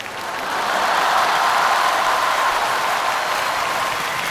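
Audience applause at a live 2002 concert, a steady, dense wash of clapping that swells in and holds at moderate loudness throughout, with no voices over it.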